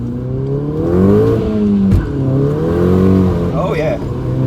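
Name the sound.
2012 VW Golf GTI 2.0 TSI accelerating in first gear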